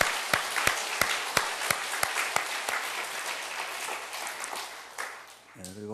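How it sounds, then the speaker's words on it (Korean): A church congregation claps after a children's department performance. A few loud, rhythmic claps stand out over a steady bed of applause, which fades as a voice begins at the end. "여러분 큰 박수로 한번 유년부 한번 다시 한번."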